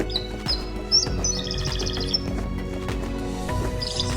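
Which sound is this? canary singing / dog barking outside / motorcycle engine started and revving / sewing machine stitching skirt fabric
canary singing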